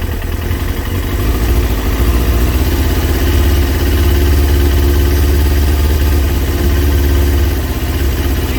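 A Kawasaki ZX6R J2 motorcycle engine idles steadily and loudly at close range during carburettor balancing, holding a continuous even thrum with no voices over it.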